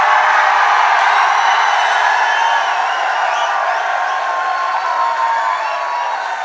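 A crowd at a speech in Udaipur cheers and shouts in a steady, loud roar of many voices that fades slightly toward the end.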